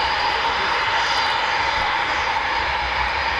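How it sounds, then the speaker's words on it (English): A Eurofighter Typhoon jet of the quick reaction alert force at RAF Coningsby roars as a steady, loud, continuous engine rush at night, with no break in the sound. "So 2 Squadron Typhoons, and these are the QRA aircraft."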